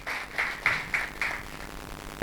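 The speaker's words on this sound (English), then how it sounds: "Let us clap hands again for Yamikani." Audience at a laptop donation event for a university claps hands. Several distinct, evenly spaced claps stand out against a faint background hum, moderately near and fairly quiet.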